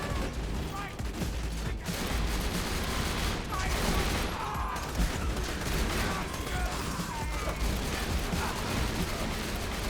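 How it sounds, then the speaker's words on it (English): Enemies fire continuously in the video game Borderlands 2, a dense, busy barrage of overlapping shots and mechanical clatter that runs loud and unbroken throughout. "letting them like literally just spam shots on me"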